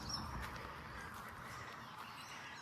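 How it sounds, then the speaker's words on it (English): Birds calling in an early-morning cottage garden in subtropical Australia, with faint, distant duck-like quacks over a steady low background hum and no nearby voices. "It's early morning. Birds."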